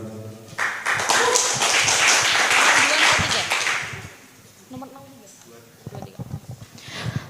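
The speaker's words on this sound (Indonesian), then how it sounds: "Tepuk tangan yang luar biasa" Applause from a student election debate audience swells into loud, dense clapping for several seconds, then fades as a voice speaks with scattered claps.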